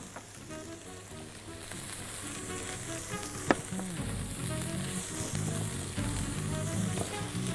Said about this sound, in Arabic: زي ما انتوا شايفين هنحمرها، مش هنغيب عليها في التحمير، البصل على طول تنزل وراها.